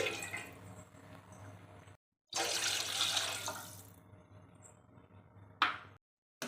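Water runs from a tap into a bowl in a few separate bursts, splashing and hissing, with short pauses between pours.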